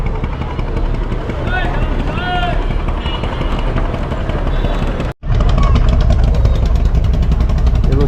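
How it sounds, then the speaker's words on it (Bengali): A passenger launch arrives at Sadarghat terminal, its engine a steady mid-range drone heard nearby, joined by a louder, rougher engine roar after a brief dropout partway through, with voices in the background. "একটা লঞ্চ আসছে ঘাটে।"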